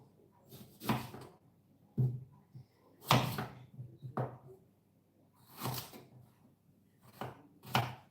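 Knife chopping crystallized ginger on a cutting board, a series of sharp, irregular thuds spaced apart with short quiet gaps, close and fairly loud with no talk.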